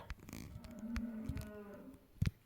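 A cow moos in a long, fairly close low call, heard during a late-night football video game session in a barn, with some background clatter and a short thump near the end.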